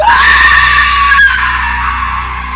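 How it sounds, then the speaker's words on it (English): A woman screams in horror, one long, piercing, sustained cry at full volume with a slight break midway, alone and close. "She screamed horrifically"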